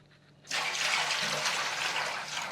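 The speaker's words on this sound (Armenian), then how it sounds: "Մենք ունենք այստեղ 1 լիտր ջուր եւ 1 լիտր էլ կլցնենք։" About a litre of water is poured into a container for a spice mixture, starting suddenly and running as a steady, close splashing gush for about two seconds with no talking.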